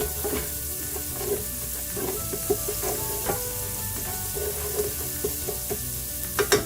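Garlic frying in a pan, a steady close sizzle with scattered crackles and occasional scraping taps of a utensil against the pan.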